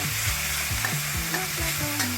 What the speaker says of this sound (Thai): ใส่น้ำมันลงไปแล้วก็นำเครื่องที่เราโขกเมื่อกี้นี้นะครับ ลงไปผัดให้หอมเลยครับ